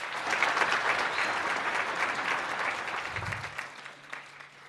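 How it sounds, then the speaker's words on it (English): Applause from an audience at a mathematics and science awards ceremony, a dense sustained clapping that tapers off toward the end with no voices over it. "Can we have a round of applause for the boy child,"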